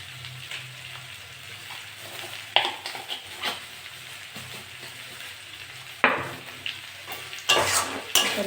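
Yardlong beans and potatoes stir-fried with sugar in a pan over a low gas flame, giving a steady soft sizzle broken by sharp scraping stirs at several points, close by with no talk.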